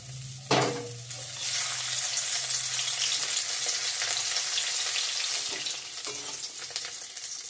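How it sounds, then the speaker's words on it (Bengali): Leftover bata fish curry reheating in a pan, a dense, even frying sizzle that holds for several seconds after an initial clatter, close and unbroken, with no voices. "মাছটা গরম করে নিব"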